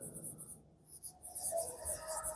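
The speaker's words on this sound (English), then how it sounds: "So I will write here" A pen writing out the answer to a physics numerical on work, energy and kinetic energy, heard as a steady, close, hissy scratching with short pauses between strokes and no talking.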